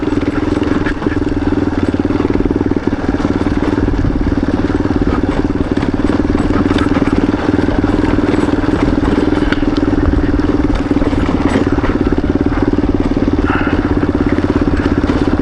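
A motorcycle engine rumbles loud and steady while riding a gravel forest road toward Lake Nantahala, with rough crackling and clattering from the ground and wind noise throughout.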